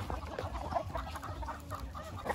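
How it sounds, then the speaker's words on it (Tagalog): Black Australorp chickens cluck softly in a breeding pen, a faint scatter of short, irregular clucks heard from a little distance. "Ang susunod naman yung mga Black Australorps from Australia."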